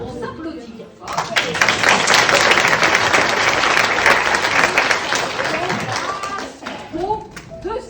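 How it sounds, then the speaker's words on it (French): A group of exercise participants in a café session applaud themselves, a dense burst of clapping that rises after a second of quiet, holds steady and loud, then thins into scattered claps with a voice speaking near the end. "On s'applaudit bien fort."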